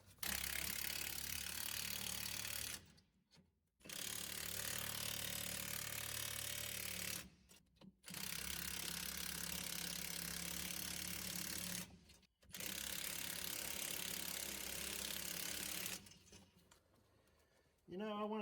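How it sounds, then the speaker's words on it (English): An impact wrench spins a socket on the bolts of a budget mini Dodge Dakota truck, firing in four long, loud rattling bursts of about three to four seconds each, separated by brief pauses. "I want to just keep hitting them till the socket quits spinning"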